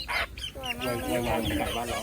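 A chicken of an egg-laying breed at a farm cafe clucks close by in short, soft bursts, with people talking over it.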